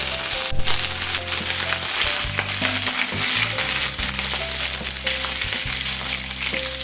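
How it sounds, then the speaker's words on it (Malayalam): Curry leaves fry hard in hot oil in a pan, a loud, continuous close sizzle and crackle with some stirring scrapes and a low background hum, no voices. "അപ്പം അതേ കരിവേപ്പില കുറച്ചിട്ട്"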